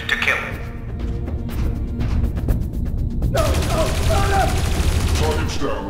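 Rapid bursts of automatic gunfire in the video game Dreamfall Chapters, a loud close fusillade of sharp repeated shots with a spoken voice mixed in.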